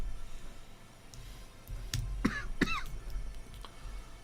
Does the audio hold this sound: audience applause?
no